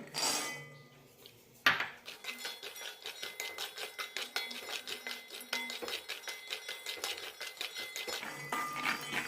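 Half a cup of peanuts dry-roasting in a pan: a sharp clank, then a steady rhythmic rattling as the nuts are tossed and stirred, close and fairly bright.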